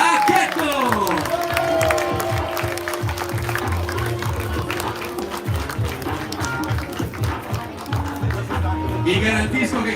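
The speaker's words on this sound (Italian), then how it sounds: "questi bimbi hanno preso un applauso più forte di molti atleti adulti" Loud, sustained applause and crowd noise fill an arena at an amateur Olympic-style boxing event in Albignasego as young boxers are cheered, with steady music and voices running underneath throughout.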